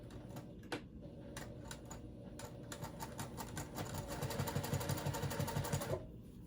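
A sewing machine stitches the box corners of a purple water bag, its needle chattering in a steady run that speeds up and grows louder toward the end before stopping abruptly.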